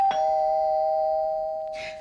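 A single electronic doorbell chime rings out clearly, one sustained tone fading over about two seconds, ending with a soft rustle.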